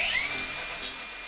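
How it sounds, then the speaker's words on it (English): A high-pitched power tool whines steadily while cutting off a frame bracket on a BMW M4 during a rebuild, a loud continuous shriek close to the microphone with no talking. "we need to cut off this bracket to make the airbox fit"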